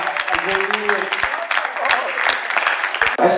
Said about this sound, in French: Papa Kofi, est-ce qu'on peut applaudir bien fort?